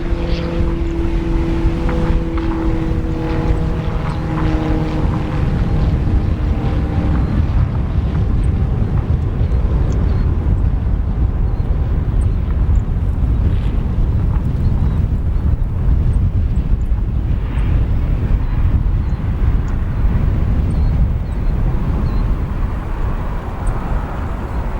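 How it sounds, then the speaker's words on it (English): A Cape Air Tecnam P2012 Traveler twin-piston commuter plane lands at O'Hare, its propeller drone steady and loud with a droning tone that fades into broadband wind and roar as it rolls out. "This TechNav P2012 Traveler, Cape Air Flight 1,"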